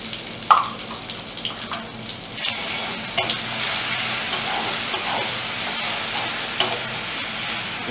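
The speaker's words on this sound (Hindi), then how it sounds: "अभी देखिए इसको मैं धीमी आंच में जस्ट 2 मिनट पकाया" Puti fish with turmeric and salt frying in a pan over low heat, a steady broadband sizzle with occasional stirring scrapes and clinks, close and alone without any talking.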